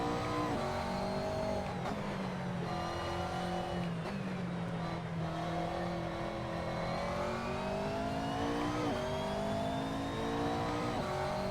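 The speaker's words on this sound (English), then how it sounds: "the real sound of the in-car of a McLaren" A McLaren racing car engine in a racing video game roars steadily, its pitch rising and falling through gear changes, loud and close throughout with no voices.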